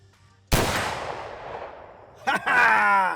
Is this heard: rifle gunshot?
yes